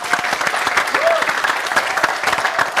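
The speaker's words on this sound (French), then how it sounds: "Applaudissements s'il vous plaît." An audience applauds a youth choir, Écho du Sud, at a stage show: dense, steady clapping from many hands fills the whole stretch, loud and close, with no voices over it.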